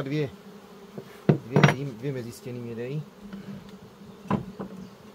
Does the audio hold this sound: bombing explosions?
no